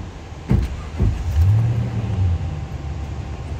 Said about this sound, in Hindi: गाड़ी को मैंने दोबारा स्टार्ट किया